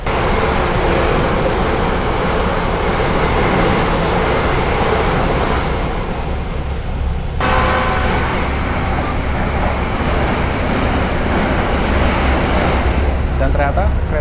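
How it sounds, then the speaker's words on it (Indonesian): Heavy rain pours steadily at an Indonesian train station, a loud, unbroken broadband hiss that roars for the whole stretch, with a faint voice partly buried beneath it. "Dan sepertinya udah mulai hujan ya teman-teman"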